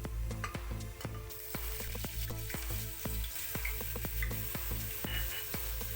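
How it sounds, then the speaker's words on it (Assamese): Butter sizzles in a hot pressure cooker, a close, steady fizzing broken by sharp popping crackles at an irregular rhythm, with no talk. "এতিয়া কুকাৰটো গৰম হ'লত এই বাটাৰখিনি মই দি দিছোঁ"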